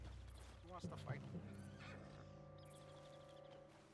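In the video game Red Dead Redemption 2, a horse gives a short, rising neigh near the start, layered over steady game ambience and background music.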